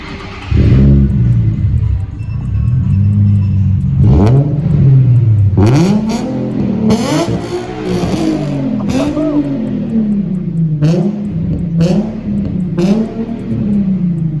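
A Nissan 350Z with a single exit exhaust starts up and revs repeatedly, loud and close, the throaty exhaust rising and falling in several sharp bursts.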